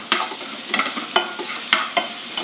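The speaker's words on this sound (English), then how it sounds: "And you're going to pan fry that garlic." Garlic pan frying over raised heat in a pan used for shrimp for lemon garlic shrimp pasta, a steady sizzle broken by five or six sharp stirring scrapes at a loose, uneven rhythm, close and fairly loud.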